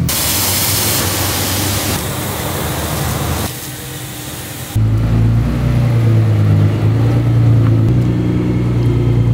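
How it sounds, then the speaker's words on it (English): A car wash in Las Vegas spraying a car, with a loud hiss of high-pressure spray that shifts in level, then gives way to a deeper, steady roaring blast. "found the nicest car wash in all of Las Vegas"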